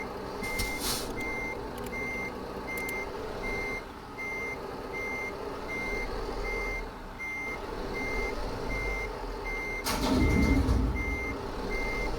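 Steady, evenly spaced reversing beeps from a truck backing up in Euro Truck Simulator, repeating over a constant engine drone, with a brief burst of hissing air-brake noise near the end.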